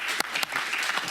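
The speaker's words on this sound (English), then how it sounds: "I think we should give Supervisor Stevens and Supervisor Boone a round of applause for making the first year" Brief burst of audience applause at a county supervisors meeting, dense clapping with a couple of sharper claps standing out.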